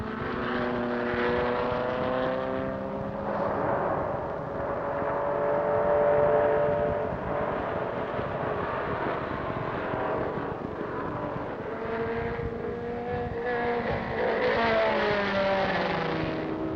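Race cars at the 1970 American Road Racing Championship at Road America, including a Triumph Spitfire and a maroon Datsun, roar past in a continuous loud engine drone whose pitch rises and falls as they pass; no talking.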